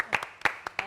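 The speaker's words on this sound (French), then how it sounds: "Bravo encore, on applaudit." Studio audience claps on a TV show in a brief burst of a few separate sharp hand claps, close and quick, cut short almost at once.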